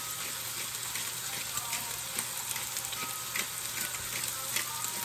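Vegetables sizzling steadily in a hot pan while frying for fried rice, a continuous crackling hiss with small pops throughout, heard alone and fairly close.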